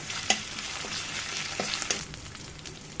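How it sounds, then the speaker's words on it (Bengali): Onions frying with ginger garlic paste in a pan, with a steady sizzle and several sharp spoon taps and scrapes against the pan as the mixture is stirred. "এখন পেঁয়াজের মধ্যে দিয়ে দেব একটু আদা রসুন বাটা। এটা ভালো করে একটু ভেজে নেব।"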